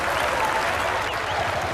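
A short stretch of steady applause from a cricket crowd at a 1990 West Indies versus England Test match, cheering the West Indies side. The sound is dense and even, with no voice over it.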